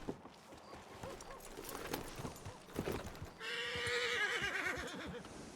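Roach, a horse in a western video game, lets out a loud, long whinny near the end, preceded by hoof clops and a quiet voice.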